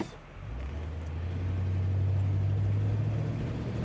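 A classic cruiser car's engine pulls steadily on the road, a low drone swelling gradually as it accelerates, close and continuous with no talk.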